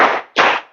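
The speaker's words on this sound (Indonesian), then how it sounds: "Tepuk 1. Tepuk 2. Tepuk 3. Tepuk 4." Two sharp, loud hand claps from a classroom of students, the second following a brief pause after the first, each broadband and quickly fading.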